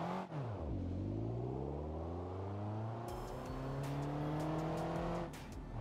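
A diesel-powered car driven in the Automation video game, its simulated engine revving up through the gears in repeated rising sweeps, loud and continuous, with brief shifts between climbs.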